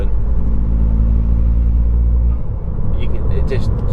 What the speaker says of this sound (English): It's what I would class a turbo, or how a turbo should sound